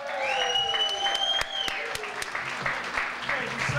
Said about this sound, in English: Keep that round of applause going for Ken